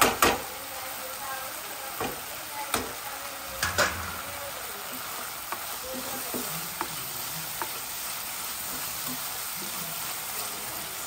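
Dosa filling being stirred in a sizzling pan for Surti gotala dosa, with repeated scraping taps of a spatula over a continuous frying hiss, close by, and faint talk in the background.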